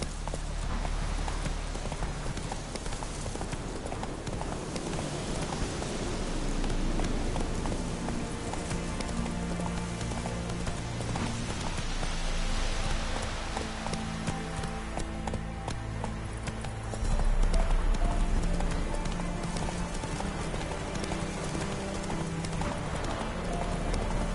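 A horse named Roach gallops in a PS4 video game, its hooves beating a fast, continuous clip-clop for the whole stretch, with a brief whinny and a busy game soundscape behind it.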